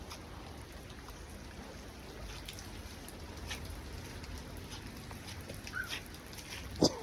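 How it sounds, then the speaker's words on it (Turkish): Steady rain patters on a surface as a constant soft hiss, with a faint dog sound and a few small knocks near the end. "nasıl yağmur var"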